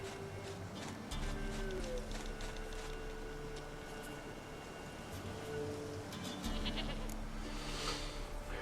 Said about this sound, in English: I brought the goat. I got your goat. Goat of mine, dearest, sweetest goat.